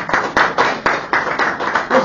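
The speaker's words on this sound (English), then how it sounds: "Can we have another round of applause for" Applause from an audience, heard as brisk separate claps in a quick even rhythm, close and fairly loud over a short stretch.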